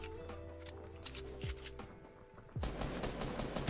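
Gunfire in the video game Fortnite Battle Royale, with several sharp shots and bursts in quick succession over a busy game soundscape, growing louder and denser near the end.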